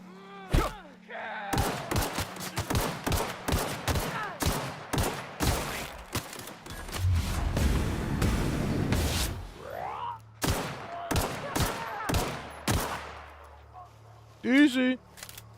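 Gunfire in The Outer Worlds, with bursts of sharp, loud shots in rapid runs and some heavier thuds, broken by short gaps. A voice talks over parts of the shooting.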